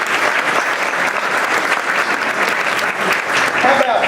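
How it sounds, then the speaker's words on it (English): An audience at a mayoral swearing-in ceremony applauds elected officials, a dense, loud and steady round of clapping that carries on throughout with no break. "Let's give them a round of applause."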